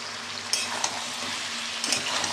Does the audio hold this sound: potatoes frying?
yes